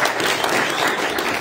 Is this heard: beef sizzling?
no